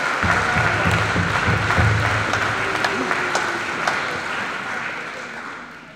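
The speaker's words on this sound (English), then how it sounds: "let's give that First Nation a round of applause for helping us" An audience applauds after a call to honour a First Nation at a graduation ceremony; steady crowd clapping fills the hall and slowly tapers off.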